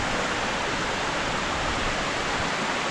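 River water flowing steadily near Titi Waterfall, a dense, even rush of broadband noise that holds constant and fairly loud throughout, with no voices.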